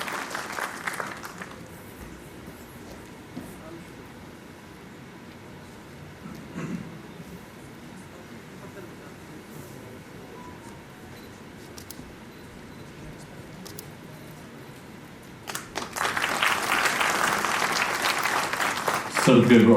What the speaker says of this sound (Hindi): जोरदार तालियां डॉक्टर फिरदौस अहमद साहब के लिए।